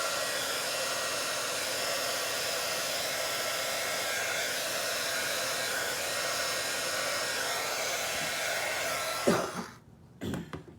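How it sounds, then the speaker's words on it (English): A heat gun blows a steady, loud airflow over resin on a gold and white cheeseboard, continuous and unbroken for about nine seconds before cutting off abruptly, leaving a couple of brief knocks and near silence. "I think I'll take my heat gun and I'm going to maybe spread it that way a little"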